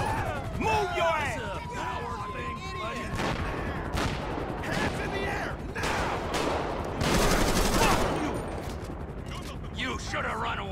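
Heavy gunfire during a police shootout in the video game GTA 5: sustained loud volleys and bursts with crashes and whizzing sounds, building to a denser barrage near the end, under shouted game dialogue.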